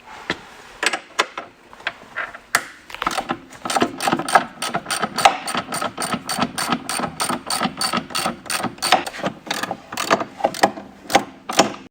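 Bolts being removed from the steering post and tie rod ends of a car during a post-forward install, heard as a long run of rapid ratcheting clicks and metallic tool rattles, close and steady after a few scattered knocks at the start.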